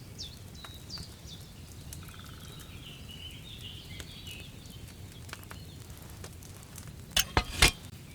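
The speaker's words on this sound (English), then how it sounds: "Hear that bubbling? It's boiling." A potion cauldron bubbling over a flame in Kingdom Come: Deliverance II, a steady low simmering hiss with faint bubbling and a few sharp clinks near the end.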